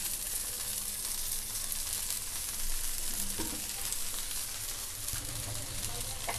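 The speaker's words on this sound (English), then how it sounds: "Now let us sprinkle some oil all over the dosa like this." Rava dosa batter sizzles and fries steadily in a hot pan after oil is sprinkled over it, a continuous close crackling hiss with no talking.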